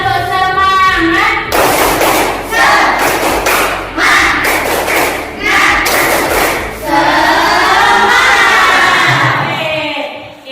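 A class of children in a classroom performs a rhythmic group spirit clap, with loud bursts of clapping alternating with shouted chanting voices, all close and energetic.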